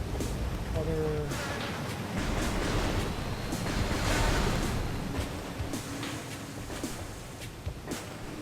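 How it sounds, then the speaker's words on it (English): Water waves in the game Metroid Prime wash and surge in a steady broad roar with gentle swells, loud and continuous, with faint game tones near the start. "Water."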